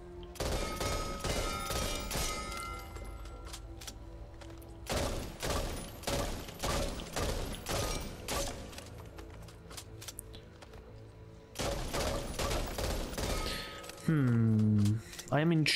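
Loud, rapid bursts of M16 rifle fire in the Back 4 Blood video game come in several sustained volleys with short pauses between them, and a voice talks throughout.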